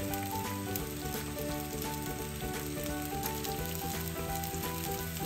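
Potato patties fry in ghee on a greased griddle, giving off a steady, dense sizzle with fine crackling pops. The sizzle holds evenly close-up throughout, with no talking.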